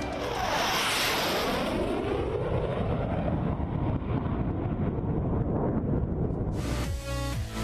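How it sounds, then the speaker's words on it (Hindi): Indian Air Force Sukhoi and MiG-21 fighter jets fly over Ladakh with a loud, sustained roar and rushing wind noise, falling in pitch as they pass, ending in a brief rattling burst. "सुखोई के अलावा MiG-21 ने भी लद्दाख के आसमान में ऊंची उड़ान भरी है।"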